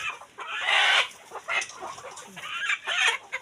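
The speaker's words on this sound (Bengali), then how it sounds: "খামারি ভাইরা মুরগি উঠাইতেছে খাঁচায়।" Chickens on a farm cluck and squawk loudly and continuously, close by, as they are loaded into cages, with rustling and handling noise mixed in.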